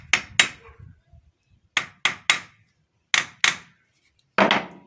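A hand tool gives light tapping blows to an engine gearbox part, about nine sharp knocks coming singly and in pairs with short pauses between them, close and distinct, and a voice is heard briefly at the start.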